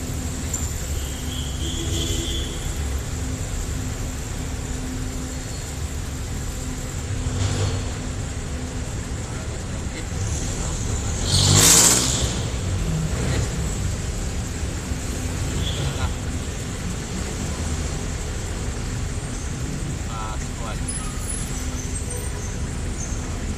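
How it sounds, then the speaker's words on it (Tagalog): Heavy road traffic rumbles steadily from inside a moving vehicle, a constant low roar with a brief louder swell around the middle, heard continuously for over twenty seconds. "Marami na pong sasakyan ngayon, matraffic na."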